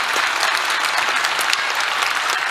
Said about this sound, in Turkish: Hadi şu alkışı bir tamamlayın